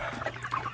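Pet chickens cluck in short, close bursts over a low background hum as they gather for their breakfast feeding.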